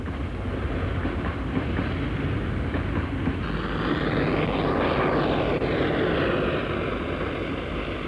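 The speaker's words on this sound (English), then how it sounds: "A wide variety of rolling stock is operated on the layout." A model train with steam locomotives and early diesels rumbles along a layout steadily with a continuous whirring, rattling noise, close and fairly loud, with no pauses and no voices.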